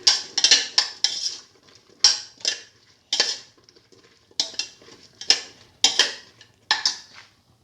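Beef and eggplant being stirred and mixed in a pan, a series of sharp metal utensil clinks and scrapes in uneven bursts separated by brief quiet gaps, close and clear, no talking.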